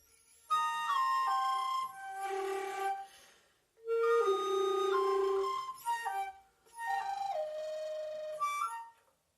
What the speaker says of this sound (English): The whistle and fall of the blue tit.